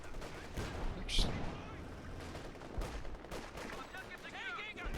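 Artillery fire in a strategy video game during a 1v1 championship match, with scattered gunshot cracks and heavier thuds over battle noise, fairly faint and mixed with a commentator's voice.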